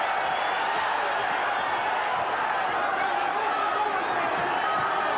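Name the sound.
boxing crowd cheering during a title fight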